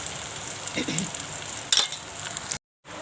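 Asafoetida drops into hot oil for a tempering with tomato and curry leaves for masoor dal, giving a soft sizzle with a brief sharper crackle midway before the sound cuts out.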